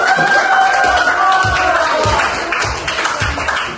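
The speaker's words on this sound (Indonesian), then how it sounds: "Oke, tepuk tangan dulu." Classroom students cheer and clap together, loud at first, with a tonal shout or whistle over a mix of clapping and crowd noise that tapers off.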